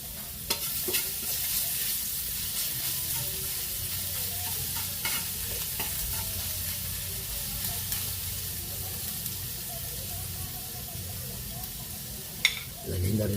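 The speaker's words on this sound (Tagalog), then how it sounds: "Lagyan natin ng mantika. Yun. Lagyan na natin yung garlic." Garlic sautéing in cooking oil in a pan for ginisang monggo, a steady close hiss of frying with a few faint clinks and a sharp scrape near the end.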